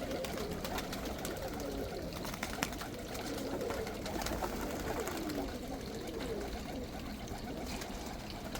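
Young pigeons or doves cooing softly in a coop, low repeated murmuring coos under a constant noisy background, with a faint trickle of water.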